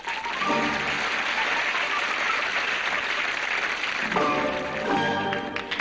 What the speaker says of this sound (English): look at the ovation they're getting from this crowd here